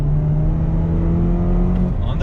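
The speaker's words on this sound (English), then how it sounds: "So downshift using the paddles." Turbocharged 2019 Chevy Camaro engine droning with a steady low hum as a paddle downshift is made, loud and close, with a brief rise in pitch near the end.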